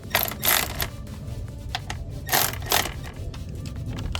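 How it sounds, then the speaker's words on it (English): A ratchet tightens bolts in short, clicking mechanical bursts at close range, with a steady low background hum running underneath. "So I'll go ahead and tighten these bolts."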